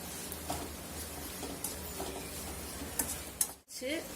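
Egg stirred in a pan over a low flame, making a soft continuous sizzle with light, irregular scrapes and taps of the utensil, a sharper knock near the end followed by a brief pause, and quiet talk at times.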